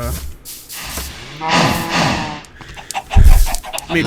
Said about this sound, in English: This chicken farm is partially automated.